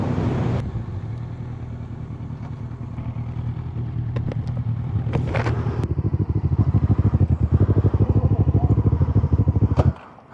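A Yamaha FZ8 motorcycle running loud and close, its engine drone building into a steady, rapid throbbing pulse before cutting off abruptly at the end.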